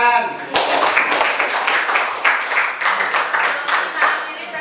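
Classroom audience clapping after a group presentation in a teacher training session, a steady burst of many hands applauding throughout, close and fairly loud.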